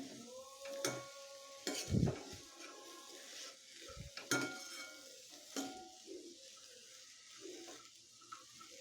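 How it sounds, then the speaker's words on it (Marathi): Mixed vegetables for a Bhogi bhaji being sautéed in a pan, with sharp metallic scrapes and clanks of the spatula over a soft, quiet sizzle and a few watery splashes. "तर या भाज्या आपल्याला व्यवस्थित परतून घ्यायच्या आहेत"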